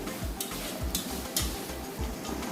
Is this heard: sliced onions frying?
yes